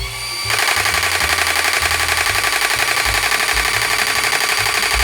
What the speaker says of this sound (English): So we can go full auto here.